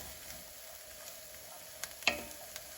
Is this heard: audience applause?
no